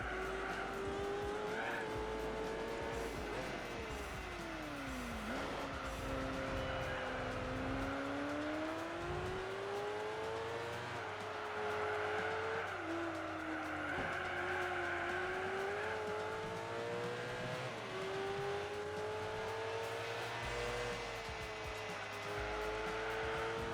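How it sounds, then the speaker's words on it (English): A BMW M5's V10 engine in Gran Turismo 4 rises and falls in pitch as it revs through gear changes, with tire squeal and skidding on corners, heard continuously and loud throughout. "the V10 sounds really good in this game"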